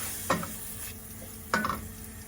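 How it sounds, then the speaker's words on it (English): Oyster mushrooms sauté in a pan, with a steady low sizzle and two distinct stirring scrapes of a utensil against the pan, close and fairly quiet. "I'll just get these sauteed up."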